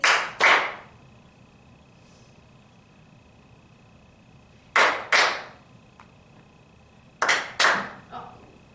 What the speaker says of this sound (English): Everyone ready to clap along?